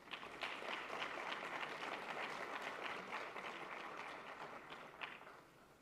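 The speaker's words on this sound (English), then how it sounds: "Give them a round of applause, please." An audience at a speaker series event gives a sustained round of applause, steady dense clapping from many hands at a moderate distance, fairly faint overall.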